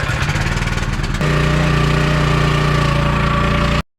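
A faulty farm mower's engine runs loud and close, a rough rapid chugging that shifts into a steadier, harder-running drone before cutting off abruptly at the end, with no voices.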